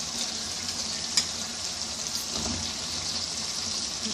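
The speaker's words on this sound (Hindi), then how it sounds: "अब मैं इसके अंदर आलू ऐड करने वाली हूँ।" Potatoes go into a pan of frying tomato masala for a turai aloo dish, giving a steady, loud, close sizzle that runs throughout with a faint scrape of stirring and no talk.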